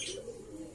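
Pigeons in a breeding loft: a brief, faint, low cooing, heard close and quiet against a soft background hiss.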